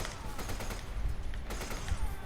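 Gunfire rattles in the video game Resident Evil 5: a dense burst of rapid shots and impacts that stays loud and steady throughout.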